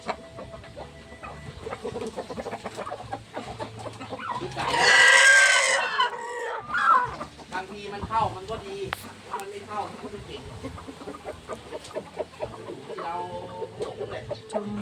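Chickens clucking at feeding time on a farm, with a rooster-like burst of loud squawking in the middle, mixed with constant background talk and activity.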